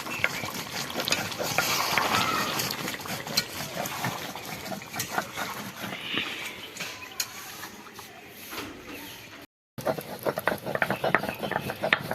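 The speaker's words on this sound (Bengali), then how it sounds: "শুকনো খোলায় যে গোটা গরম মশলাটা ভিজে রেখেছিলাম সেটাকে আবার গুঁড়ো করে নেব এবার এটা শিলে বেটে নেবো" Roasted whole garam masala being ground on a stone slab with a grinding stone, a continuous rough scraping and gritty rubbing that carries on steadily, close by, with a brief break near the end.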